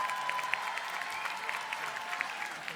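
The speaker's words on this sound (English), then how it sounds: "Let's give a round of applause for all of our Bachelor of Arts in Journalism graduates." Applause from the crowd at a university commencement for Bachelor of Arts in Journalism graduates, a sustained moderate wash of clapping with a few louder claps and faint cheers scattered through it.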